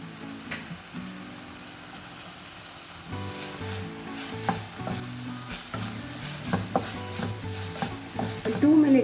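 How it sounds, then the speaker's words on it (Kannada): Corn and tomato frying in a pan, a steady close sizzle with repeated stirring and scraping clicks that grow busier toward the end, no one talking. "ಒಂದು 2 ಮಿನಿಟ್ಸ್ ಕಾರ್ನ್ ಫ್ರೈ ಆಗಲಿ."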